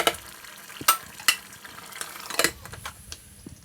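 A beef curry being stirred with hot water inside a pressure cooker for a Kerala-style dish, with a few sharp spoon scrapes and knocks against the pot over a soft, steady simmering sizzle.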